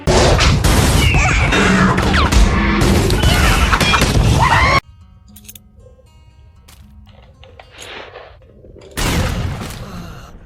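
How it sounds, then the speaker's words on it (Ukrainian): A loud grenade blast in S.T.A.L.K.E.R.: Shadow of Chernobyl fills the first half with a dense, crashing roar. The noise cuts to a quiet stretch with sparse ticks and then returns in a loud burst near the end. "гранатою ми когось бубухнули, хлопці"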